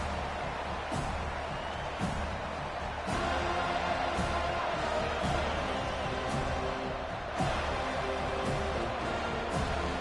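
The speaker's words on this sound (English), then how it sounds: "This crowd bringing the energy and noise early." Stadium crowd at a football game, a dense sustained roar of many voices with steady cheering and a few louder swells, heard from within the stands.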